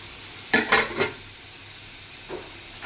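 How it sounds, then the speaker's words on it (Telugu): Onions frying in a pan for a shrimp curry, with a few quick clinks and scrapes of stirring over a faint steady sizzle, then a softer scrape near the end. "ఆనియన్స్ ఫ్రై అవుతున్నాయి కదా"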